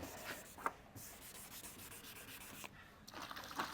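Hand sanding of a yellowed car headlight lens with wet abrasive, a steady close scraping rub that runs continuously, with brief louder strokes and a couple of short pauses in the rhythm.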